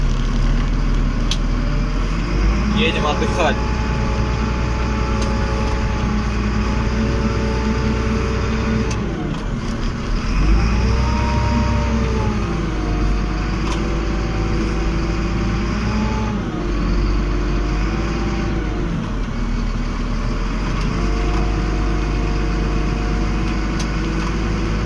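A Hyundai SL765 wheel loader drives off after piling snow, its diesel engine droning steadily from inside the cab with rising and falling revs as it moves, and someone briefly speaks.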